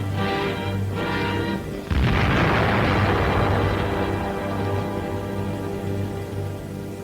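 Unexploded bombs detonated on the spot in a 1940 German newsreel: a heavy blast erupts after a steady background drone, followed by a long rumbling roar that slowly fades.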